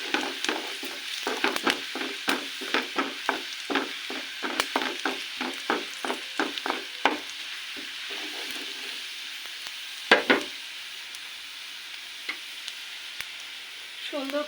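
Cumin seeds hit hot oil in a home kitchen pan, a steady soft sizzle under a quick run of rhythmic scraping stirs that slows and fades to a lone sizzle.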